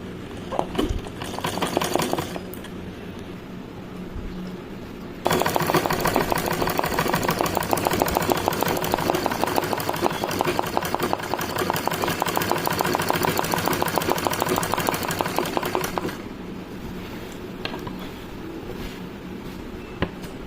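An ordinary home sewing machine running a flower-outline embroidery stitch, a continuous rapid mechanical rattle that starts, runs for roughly ten seconds at a steady pace, then stops, with quieter handling around it and no talking.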